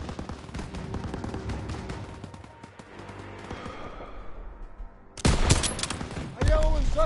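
Sustained covering gunfire in Call of Duty WW2, rapid close shots rattling over battlefield noise, then two louder, harsher volleys near the end.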